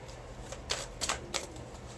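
Tarot and oracle cards being handled and picked out during a reading, a few soft close card snaps and slides over a quiet background hum.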